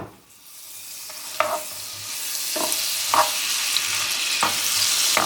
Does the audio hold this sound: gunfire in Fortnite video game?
no